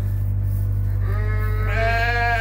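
Several sheep bleat inside a barn on a sheep farm, a rising, wavering bleat swelling in the latter half over a steady low mechanical hum, fairly close and loud, with no talking.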